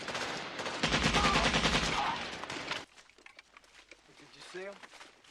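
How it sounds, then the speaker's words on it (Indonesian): Dense machine-gun gunfire in a Vietnam War film jungle battle, loud rapid bursts for nearly three seconds, then quieter scattered shots under a voice talking. "Baku tembak pun terjadi di mana posisi Vietcong terhalang oleh pepohonan."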